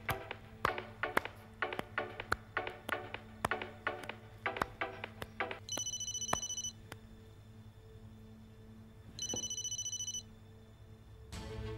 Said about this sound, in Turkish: Zehra'nın telefonu